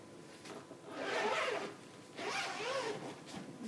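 A ukulele case zipper is pulled open in two long rasping strokes, close up, with a short pause between them and no talking.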